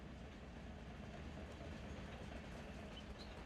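A single underpowered locomotive hauls an autorack freight train in the Run 8 train simulator, giving a steady, continuous rumble with a faint clickety-clack of wheels and no voices.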